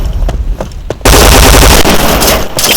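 Sustained bursts of P90 submachine gun fire in an online shooter game, loud and continuous after a brief quieter stretch of scattered shots, with rapid repeated reports filling most of the clip.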